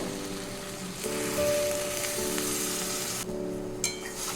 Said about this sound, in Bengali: আলুগুলো ভাজতে ভাজতে দেখুন প্রায় সিদ্ধ হয়ে গেছে এবার আমি জল দিয়ে দেবো